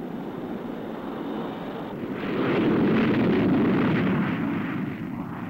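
An A-4D Skyhawk jet on a catapult at early dawn: a steady broad jet roar that swells loud partway through and stays heavy for a few seconds before easing slightly, with wind-like rushing throughout.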